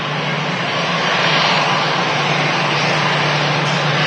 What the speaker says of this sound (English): EasyJet in from Amsterdam, and that's the A320-200